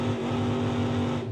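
Drag racing with a 1990 Ford Mustang and a 1969 Camaro with injector stacks, a loud sustained engine roar close by that fades slightly at the end.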